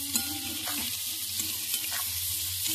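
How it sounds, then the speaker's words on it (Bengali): Bitter gourd frying in a pan with nigella seeds, garlic and dry chilli, an even close sizzle with soft stirring scrapes and a low hum underneath, no speech. "এখন আমি উচ্ছে ভাজা করছি। দেখলেই তো, আমি কালো জিরে ফোড়ন দিলাম, রসুন ফোড়ন দিলাম, আর শুকনো লঙ্কা ফোড়ন দিলাম"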